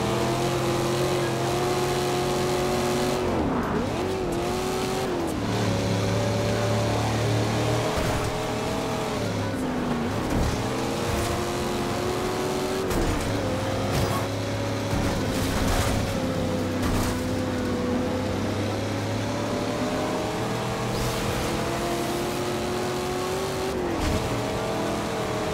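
Race cars in Forza Horizon 2 roar continuously, engines climbing and dropping through gear shifts as they pass other cars, a loud steady drone with repeated revving sweeps and no speech.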